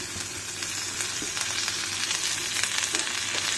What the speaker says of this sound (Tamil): எல்லாத்தையும் சேர்த்து வதக்கிக்கணும்.